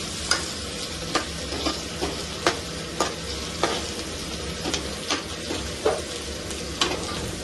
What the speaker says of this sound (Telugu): ఇప్పుడు చూడండి, అట్లా ఇవి కూడా వేసాను, కొంచెం ఆయిల్లో ఫ్రై చేశాను.